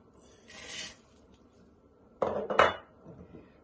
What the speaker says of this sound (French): Et après, je vais mettre les lentilles.